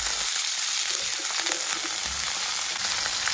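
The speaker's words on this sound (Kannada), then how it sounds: "ನುಗ್ಗೆ ಕೂಡ ಹಾಕುವ." Drumstick pieces go into hot coconut oil with mustard seeds, urad dal and curry leaves, giving a steady, close, dense sizzle with faint crackles and a few stirring scrapes throughout, no voices.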